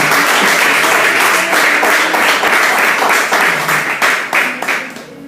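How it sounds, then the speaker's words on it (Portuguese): A church congregation claps together in a loud, fast, continuous round of applause that fills the room, its rhythm loosening and thinning slightly toward the end. "Aplauda o nome do Senhor Jesus."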